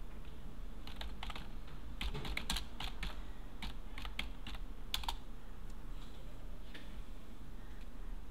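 Computer keyboard keys pressed in quick, irregular bursts of light clicks, fairly faint and close, over a low steady background hum.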